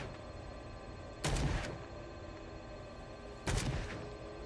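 Two separate loud gunshots in the video game Call of Cthulhu, each a sharp close crack with a short decaying tail, about two seconds apart over a steady quiet background hum.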